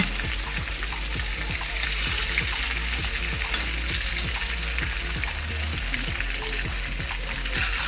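Potatoes browning in a hot pan for potatoes fondant give a steady close sizzle, broken by a regular run of soft knocks and scrapes as pieces are turned and shifted, with no voices.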